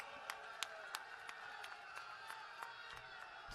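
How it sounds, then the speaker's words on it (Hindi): At a political election rally in Amritsar, Punjab, a distant crowd claps in rhythmic, evenly spaced claps, faint, with murmuring voices underneath. "आप ताली बजाओ"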